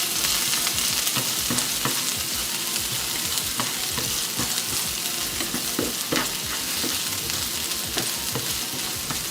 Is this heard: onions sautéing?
yes